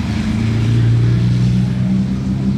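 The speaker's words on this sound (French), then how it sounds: "F12 TDF à présent est suivi, bien suivi par la Barchetta" A loud, steady engine drone from a Ferrari F12 TDF followed closely by a Ferrari 550 Barchetta passing on a Monaco street, with a deep rumble that swells slightly in the middle and faint voices underneath.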